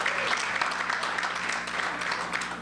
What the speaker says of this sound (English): Will you bang your hands together if you're a rock music fan?